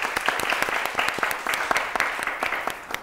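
Audience clapping after a recited patriotic poem, a brisk run of distinct, sharp claps with a steady rhythm, moderately close and continuing for a few seconds with no talking.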